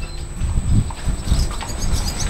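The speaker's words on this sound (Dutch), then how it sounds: "Dat is de blonde pony." A blonde pony in a horse stable makes soft, irregular shuffling and hoof-on-floor sounds, moderately close, with low thumps scattered through a steady barn background and no talking.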